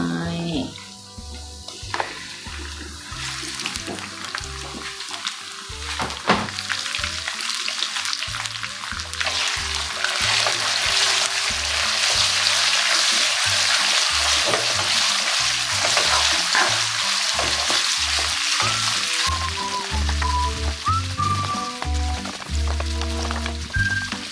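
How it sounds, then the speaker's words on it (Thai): Pork strips and golden garlic sizzle steadily in a hot pan, a continuous crackling hiss with scraping stirs of a spatula running throughout, close and fairly loud. "พอกระเทียมเริ่มเหลืองเราก็จะใส่หมูลงไป"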